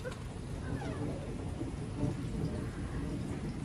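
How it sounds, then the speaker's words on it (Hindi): Steady evening rain pours down with low rumbling thunder underneath, a soft, continuous wash of storm noise with no voices. "शाम के समय बहुत बारिश हुई"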